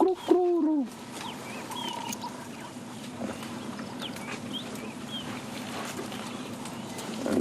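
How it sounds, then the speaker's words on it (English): A Cape turtle dove calls in the African bush at sunrise, a few soft, far-off repeated coos over a steady wash of insects and ambient noise, with a brief louder call near the start. "You can hear the Cape turtle dove calling."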